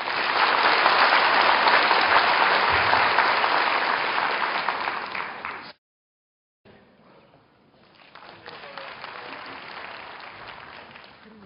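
Audience applause at a university entrance ceremony fills the hall as a dense, loud wash for about six seconds, breaks off into a brief silence, then returns as softer, steadier clapping.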